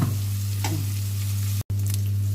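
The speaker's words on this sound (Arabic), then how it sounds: "طبعا انا مش عايزه هو شوحها قوي عشان خاطر البصله ما تتحرقش" Onion sautéing in a pan makes a loud, continuous close sizzle over a steady low hum, with a single utensil knock and a momentary cut in the sound near the end.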